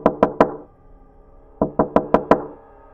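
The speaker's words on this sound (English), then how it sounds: "Like someone knocking in a pattern." Knocking in a deliberate pattern on a bathroom stall: three quick sharp raps, a pause, then five more in steady rhythm, close and clear in an otherwise quiet room.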